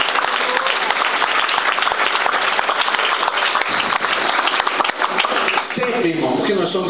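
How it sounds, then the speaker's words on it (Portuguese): Church congregation applause during a worship service, a loud continuous roar of clapping with scattered distinct claps, and a voice begins speaking over it toward the end. "Dê uma salva de palmas a ele."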